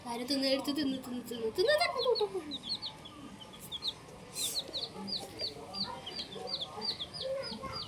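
Many small chicken chicks cheep in rapid, repeated high peeps, fairly close, while people talk over them.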